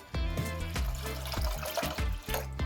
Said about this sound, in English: 4 cups of water to my pot